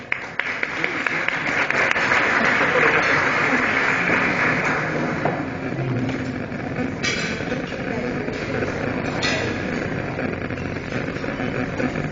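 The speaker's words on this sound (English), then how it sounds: "Give her a round of applause." An audience at an awards presentation applauds continuously for about twelve seconds, a full, even wash of clapping with a few brief sharper accents.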